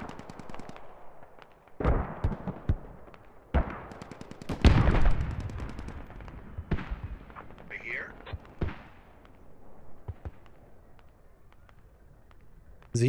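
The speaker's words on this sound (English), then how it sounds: "we're about actually to have a nice little tank fight" Gunfire from a tank battle in a military video game, with Chinese ZTZ tanks fighting insurgents in Al Basrah. Sharp bursts and single shots come at irregular intervals, loudest mid-clip, amid background noise and faint talk.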